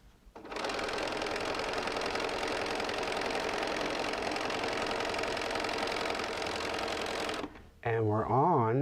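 A sewing machine runs steadily as it stitches a quilt block seam, a close, loud mechanical whir for several seconds, stopping abruptly before a brief voice speaks.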